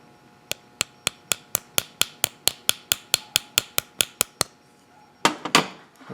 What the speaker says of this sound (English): I'm going to take my ball peen hammer and I'm going to lightly tap that wafer down to mark the key